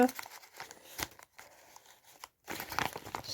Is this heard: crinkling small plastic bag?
yes